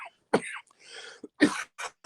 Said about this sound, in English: I hate hearing myself cough on a live stream.